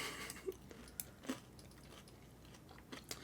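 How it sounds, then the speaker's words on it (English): Crunchy garlic bread chewed close to the microphone, heard as faint, irregular crisp crunches and clicks at a low, quiet level with no talk. "I'm going to be garlic bread crunchy for a minute."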